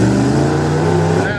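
A tuff truck with a 351 Windsor V8 roars loud and close at a competition event, its engine held at a steady high rev. An announcer talks over the engine noise.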